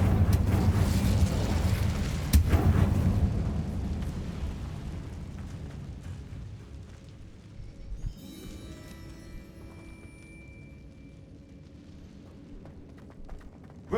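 An Incendio fire spell in Hogwarts Legacy opens with a loud, roaring burst and a sharp crack, then fades into a long, dwindling rumble with faint crackles near the end.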